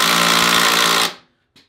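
A power drill drives a screw in a cheap Amazon versus professional drill comparison, a loud steady whirring buzz lasting about a second before stopping abruptly, followed by a faint click.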